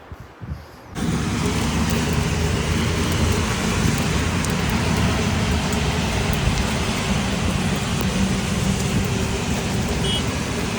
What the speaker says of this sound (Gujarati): અહીંયા જોરદાર વરસાદ ચાલી રહ્યો છે